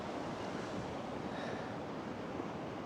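A creek flows past a grassy campsite in Colorado, a steady broadband rushing of water that holds at an even level throughout, with some wind mixed in.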